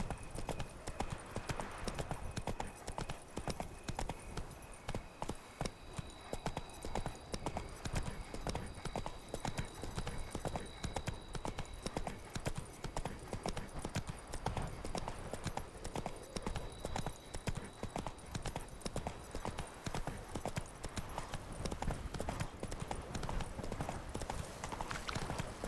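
The horse Roach gallops in The Witcher 3, a steady rapid clip-clop of hooves running continuously and close, with faint game sounds and occasional voices in the background.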